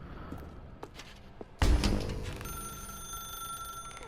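An old-fashioned telephone bell in the video game The Stanley Parable rings out suddenly and loudly after a quiet room tone, its metallic ring sustaining and slowly fading.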